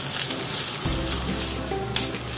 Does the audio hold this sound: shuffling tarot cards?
no